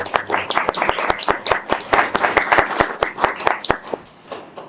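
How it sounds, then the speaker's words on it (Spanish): A room of people clapping steadily for several seconds, sharp individual claps standing out before the applause thins toward the end. "Un aplauso, por favor."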